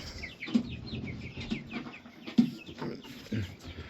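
Jersey Giant chickens clucking inside a cage, a steady run of close, overlapping clucks and soft calls with a couple of sharper squawks, heard alone with no talking.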